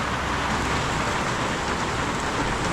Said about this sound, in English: It is raining harder than I think I've ever seen it rain before.